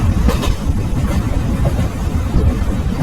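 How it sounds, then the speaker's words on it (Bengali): Cartoon sound effect of a train pulling into a station in a Bengali horror cartoon: a loud, steady low rumble and clatter of the moving train, heard alone for a few seconds. "কিছুক্ষণের মধ্যে ট্রেন স্টেশনে এসে থামলো।"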